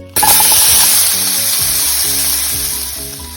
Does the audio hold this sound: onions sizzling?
yes